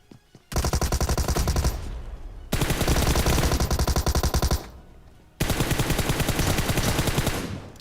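Automatic gunfire in the mobile shooter BGMI, three long rapid bursts of loud, close machine-gun fire separated by short gaps.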